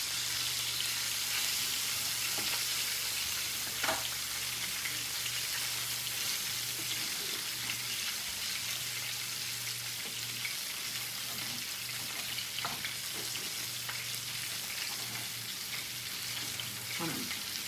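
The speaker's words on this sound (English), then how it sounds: "roux is getting nice and bubbly" A roux with sour cream bubbles on a stovetop skillet, giving a steady, soft fizzing sizzle with faint popping and occasional light utensil knocks and scrapes, a low hum running under it and no talking.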